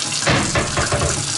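Water runs from a faucet into a sink and drains away, a loud steady gushing splash over a short stretch, with no voices.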